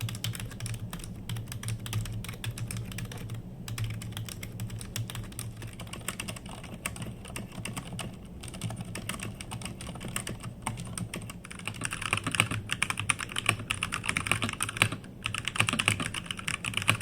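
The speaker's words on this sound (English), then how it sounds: "mechanical keyboards use individual mechanical switches for each key. This provides a much more satisfying typing experience with tactile and audible feedback" Steady typing on a full-size mechanical keyboard, a dense continuous clatter of individual key clicks close to the microphone that grows slightly louder toward the end, with no voices.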